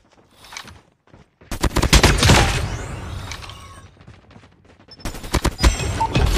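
Mythic Krig-6 assault rifle firing in Call of Duty Mobile: loud, rapid automatic bursts, one long sustained string followed by a short pause and another close, sharp volley.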